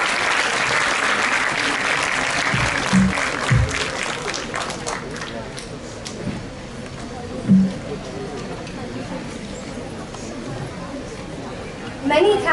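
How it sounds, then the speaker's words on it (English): An audience at a school Model UN opening ceremony claps in a sustained round of applause that slowly thins, with crowd chatter underneath and a few louder bumps near the microphone. "May we have a huge, huge round of applause for Sir."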